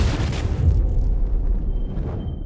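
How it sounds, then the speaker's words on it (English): A loud movie explosion, a deep rumbling boom that swells at once and rolls on as a sustained low roar with debris-like crackle, fading slightly toward the end, alone without talk. "That's a good explosion."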